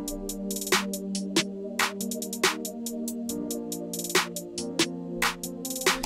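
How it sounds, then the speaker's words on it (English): A steady beat over sustained tones, with crisp claps landing on regular accents among rapid hi-hat ticks and snare hits. "And with the clap, it sounds like this."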